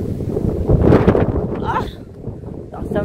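Wind buffets the microphone outdoors, a low rumbling roar that swells loudest in the first second and then eases, with brief voices and faint higher sounds near the end.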